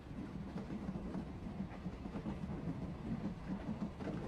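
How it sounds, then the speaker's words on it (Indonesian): A train in an anime runs with a steady low rumble and faint rhythmic clatter of wheels on rails, a continuous moderate drone without any speech. "Saat itulah kereta berhenti"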